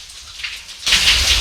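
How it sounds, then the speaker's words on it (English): Heavy rain pours down, a dense steady hiss that starts soft and distant, then swells abruptly into a loud, close downpour for the rest of the moment. "the rain was still going super hard"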